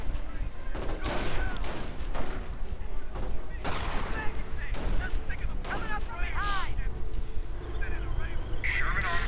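Repeated sharp gunshot cracks from a World War II style video game battle with Sherman tanks, landing in irregular bursts over a dense, constant din of combat, with shrill whistling tones toward the end.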